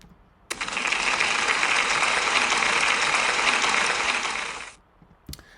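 A room full of people gives a pupil a big round of applause at a school celebration: steady, dense clapping that starts abruptly, holds evenly for about four seconds, then fades out quickly.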